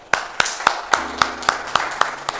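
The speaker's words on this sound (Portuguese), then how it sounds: "Olha, uma salva de palmas para o irmão." Slow, evenly spaced hand claps ring out one by one, about eight in a row, crisp and near.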